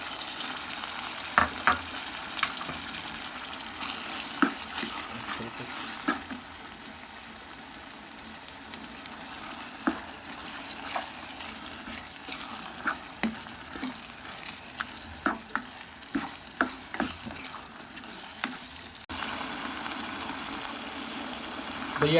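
Chicken mince fries in a pan, a continuous low sizzle broken by scraping stirs and clinks of the spoon, heard up close at moderate volume with no speech.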